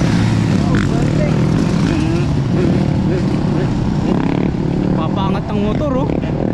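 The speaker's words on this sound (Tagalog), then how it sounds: "Papangat ang motor oh sa highway." Motorcycles riding along the Great South Road highway in Manurewa, New Zealand, a loud continuous engine roar of passing bikes and traffic with people talking over it.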